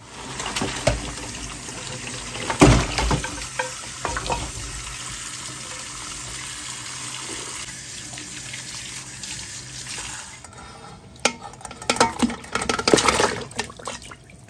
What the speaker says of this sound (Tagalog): So maglagay lang po kayo ng tubig ng katamtaman, no?